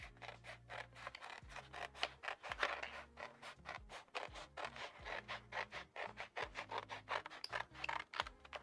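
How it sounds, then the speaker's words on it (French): Scissors cutting a flex transfer sheet in two, a steady series of short crisp snips and scraping blade strokes, close and quiet, repeating rhythmically with no talk. "je vais prendre mes ciseaux et je vais tout simplement découper"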